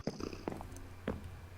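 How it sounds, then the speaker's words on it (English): A black cat purrs in a video game near a witch hut, a soft rumbling purr with short chirpy accents, close and fairly quiet over faint game ambience. "Oh, it's purring!"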